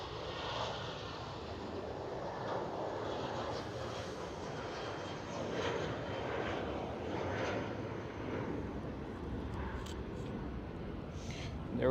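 A British Airways airliner lifts off at Schiphol Amsterdam, a steady broadband jet roar holding at moderate distance throughout, with faint voices now and then over it.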